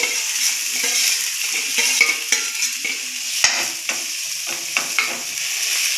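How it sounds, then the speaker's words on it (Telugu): Samosa filling being mixed in a pan over oil, with a steady broadband sizzle and repeated sharp scraping strokes of a spoon against the pan, close and fairly loud, no talk. "ఇవన్నీ వేసేసుకొని కొంచెం నీట్గా మిక్స్ చేసుకోవాలి"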